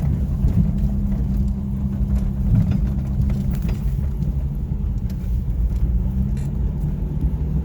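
A 1989 Jeep XJ with an AW4 automatic transmission drops into first gear, a steady, loud, low engine drone with rumble throughout.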